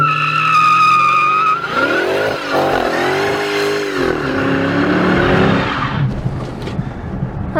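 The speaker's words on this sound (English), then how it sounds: "setting off in the 2006 Dodge Magnum SRT8" A 2006 Dodge Magnum SRT8 pulls away with loud, close tire squeal and a revving engine, the squeal swooping and wavering for several seconds before fading into road noise.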